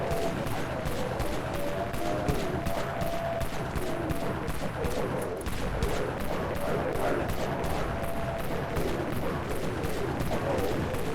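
Claw Shot shotgun blasts in the Dead Frontier game, a dense, continuous barrage of rapid, loud gunfire with a faint tone running underneath and no pauses.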